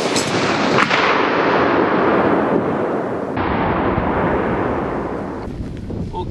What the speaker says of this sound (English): So now let's shoot it.